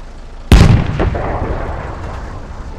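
Rounds explode in the military shooter Squad: one sudden, loud, booming blast with a sharp onset, then a rumbling tail that slowly fades.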